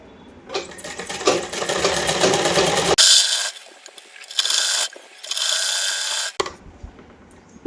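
Sewing machine stitching a salwar waistband, bursts of rapid mechanical clatter separated by short pauses and clicks of the handwheel, close up and with no talking.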